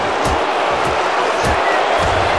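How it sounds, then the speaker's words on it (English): Crowd at a championship-round mixed martial arts fight, Dan Hardy versus Jon Fitch, giving off a loud, sustained wash of noise that swells and falls throughout, with a low, dull booing quality under the roar. "Some serious boos from the crowd here,"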